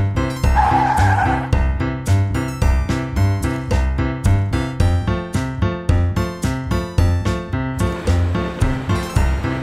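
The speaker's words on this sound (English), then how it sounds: "The monster truck goes down." A cartoon monster truck skids with a squealing tire near the start, then a steady rhythmic, engine-like pulsing continues loudly for the rest of the stretch.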